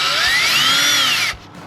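A power drill with a slightly dull 5/16 bit bores out the bolt holes on a mechanical fan for a 4.7 Jeep WJ Grand Cherokee, giving a loud, close, steady whine that rises and falls in pitch before cutting off abruptly.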